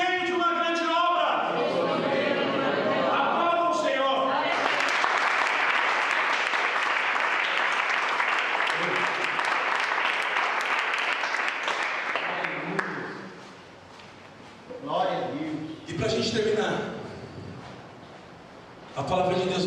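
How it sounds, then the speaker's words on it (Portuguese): Church congregation applauding: after a stretch of a lone voice, a dense, loud sustained clapping wash takes over for about eight seconds, then fades back into talk. "Aplauda o Senhor."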